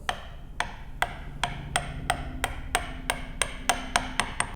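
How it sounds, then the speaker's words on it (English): About a dozen evenly spaced, sharp hammer blows drive a chisel down into a scribed gauge line on wood while dovetail joints are cut, each strike close and crisp over a faint low hum. "get a chisel into the marking gauge line that's scratched on the side and hit it down vertical"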